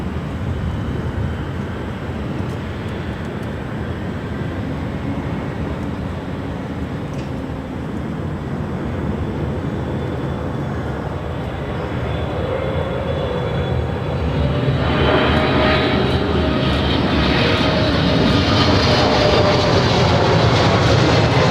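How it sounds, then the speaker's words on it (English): An Air France Boeing 777-300ER from Paris on short final into LAX runway 24 right makes a long, steady roar that slowly swells louder and brighter toward the end, with no talking. "the 777-300ER coming from Paris, flight 66, now in short final for 24 right"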